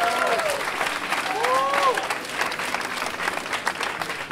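Steady applause from a crowd at a live music festival fills the whole stretch, with a few bright whistle-like tones rising above it early on.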